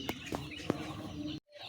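Broiler chickens mixed with native chickens, raised in a natural outdoor setting, give a few short, soft clucks close by against a quiet background, with a brief dropout near the end.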